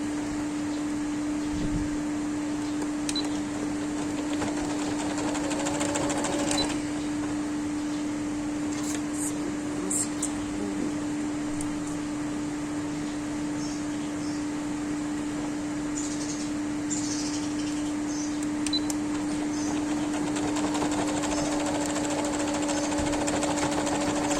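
Sewing machine stitching the edge of a baby girl's frock for a 1 to 1½ year old, a steady close motor whir running continuously with brief pauses and faint clicks.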